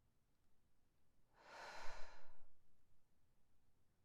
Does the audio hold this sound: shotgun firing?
no